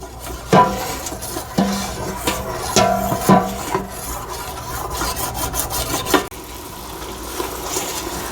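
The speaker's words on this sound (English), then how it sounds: "we're going to go ahead and stir this until the onion is soft" Onion being stirred in a metal pot while starting a creamy tomato soup, with scraping and knocking of a spoon against the pot in irregular strokes, fairly close and clear, no talking.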